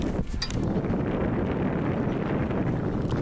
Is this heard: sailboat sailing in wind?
yes